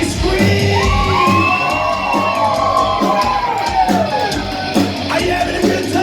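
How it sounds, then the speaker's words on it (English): A loud concert crowd at a Halloween bar-band show screams, whoops and cheers continuously, close and dense, with individual shouts rising above the roar. "Somebody scream!"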